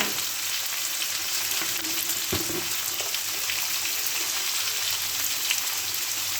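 Spinach and mixed vegetables with salt and turmeric frying in a pan, a dense, even crackling sizzle with an occasional clink of stirring, no voices.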